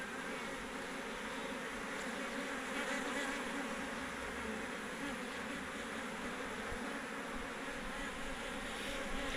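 A swarm of honey bees packed onto a hive frame gives a steady, dense buzzing drone, close and continuous throughout with no voices.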